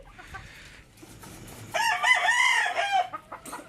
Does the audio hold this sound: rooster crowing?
yes